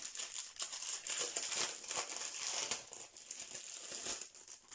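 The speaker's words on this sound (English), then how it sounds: "Sorry about the crinkling winkling." Plastic packaging crinkles and crackles continuously while a diamond painting notebook kit is unboxed, close and fairly quiet, with irregular bursts of rustling.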